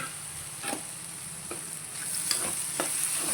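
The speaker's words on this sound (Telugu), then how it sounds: "ఇప్పుడు మనం ఆలుగడ్డ వేసేసుకుందాం." Potatoes drop into ivy gourd frying in a pan, giving a steady sizzle broken by scattered stirring clicks and light scrapes.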